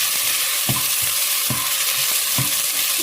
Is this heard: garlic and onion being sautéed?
yes